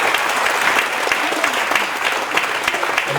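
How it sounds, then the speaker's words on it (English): A crowd at a Navajo Tribal Utility Authority headquarters opening gives a loud, sustained round of applause, with thick, continuous clapping and no talk over it. "Let's give NTUA a big, big round of applause."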